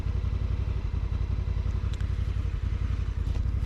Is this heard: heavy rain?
no